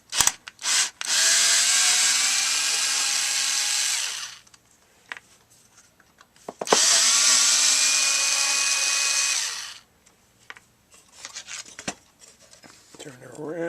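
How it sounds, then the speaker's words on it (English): A power screwdriver whirs in two sustained bursts of about four and three seconds while opening the case of a CB radio linear amplifier, with quiet handling clicks and knocks in the gaps. "I'll get my screwdriver out. I think we could just pop the top off of this one."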